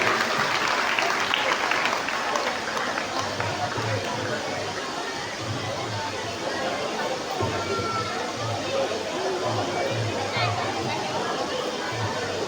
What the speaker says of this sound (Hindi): सभी जोरदार तालियों से उनका स्वागत